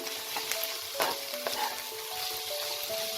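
Red amaranth greens with green chillies fry in a pan and are stirred, giving a close sizzle with repeated scraping sweeps and a few sharper clacks of the spatula, and no talking.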